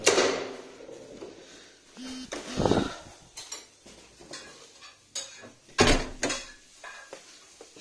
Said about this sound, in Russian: Что ты тут, блядь, кастрюлями звонишь?